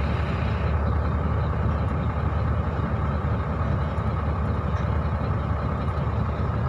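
A trailer truck hauling a 12-metre super jumbo tank, its heavy engine rumbling steadily and loudly at close range throughout.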